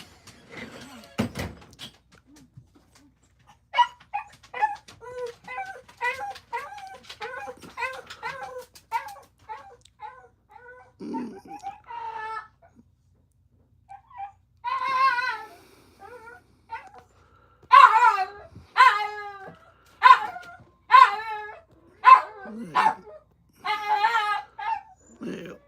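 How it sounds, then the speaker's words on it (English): A small pet dog yapping and barking at home, a series of sharp high-pitched yaps in irregular bursts, some louder clusters near the end, heard indoors. "Mama's home, so my dog's yapping at her."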